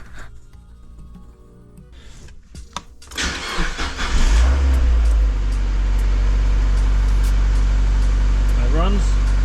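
A rusty 1991 Mazda MX5 NB facelift donor car with a 1.8 VVT engine starts up and settles into a steady, loud idle, following clicks and handling noises, with speech heard in the background.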